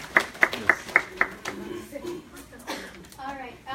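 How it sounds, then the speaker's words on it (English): Several people at a community event clap briefly, about five sharp claps close by, followed by people talking. "We can clap."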